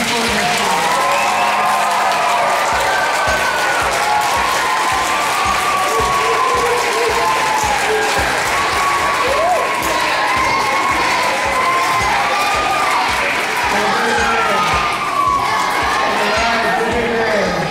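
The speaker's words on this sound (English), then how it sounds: "Let's give one more cheer for Larry Asante, Nebraska football team." Eighth-grade students in a school gathering cheer, shout and clap for a visiting Nebraska football player, a loud, continuous roar of young voices and applause filling the room from start to finish.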